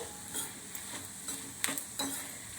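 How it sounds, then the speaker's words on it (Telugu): Coriander seeds stir-fried in a pan for chutney, a soft, steady dry sizzle broken by a few scraping stirs of a spoon, quiet and close with no speech. "ఇవి మరీ ధనియాలండి బాగా వేపేసుకోకూడదు దోరగా మనం చూసుకోవాలండి"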